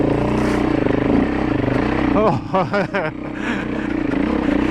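A dirt bike engine labours up a steep trail, loud and close, with a steady drone broken by sharp throttle blips midway. A rider speaks briefly over it.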